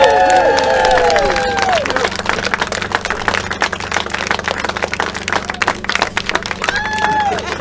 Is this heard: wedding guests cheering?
yes